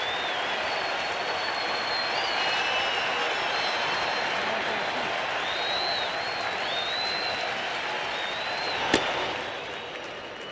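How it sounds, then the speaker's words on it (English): Crowd at a baseball stadium during a Cardinals playoff game applauds in a sustained roar of clapping and cheering, with a commentator talking over it and a single sharp crack near the end. "And the crowd appreciates what they're seeing from Garcia"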